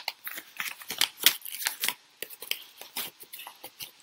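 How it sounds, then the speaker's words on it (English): A paper envelope is ripped open in a series of sharp, close tearing and crinkling bursts with short pauses between, loud against a quiet background. "they have a nice tear open strip and I'm just destroying the envelope"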